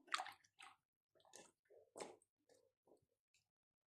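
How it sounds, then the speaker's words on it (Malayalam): Water is tipped off soaked guava pieces for pickling in a few short, separate splashing pours with drips and gaps of silence between them, close but quiet. "ഇനി നമുക്ക് വെള്ളം കളയാം."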